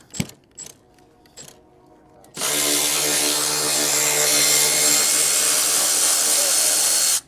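A power ratchet wrench loosening suspension bolts while installing H&R springs on a 2025 Ford Explorer ST, starting after a few brief clanks and then running as a loud, steady whirring buzz for about five seconds.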